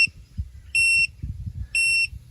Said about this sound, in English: that annoying bipping sound you can hear is because I've taken the sensor off the tyre